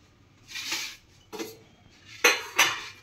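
Plates and utensils clink in a home kitchen while rice is plated, four distinct ringing knocks of crockery and metal, close and bright with short pauses between.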